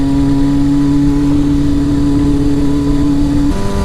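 Steady, loud mid-pitched motorcycle engine held at a constant drone while a rider balances the bike on its rear wheel in a wheelie, with a brief shift in pitch near the end and no voices.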